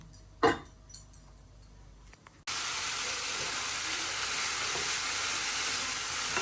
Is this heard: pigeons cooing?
no